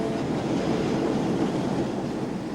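Subway train at the MIT station, a steady rumbling roar of wheels on track with faint rhythmic clatter, loud and sustained across the whole span, easing slightly toward the end.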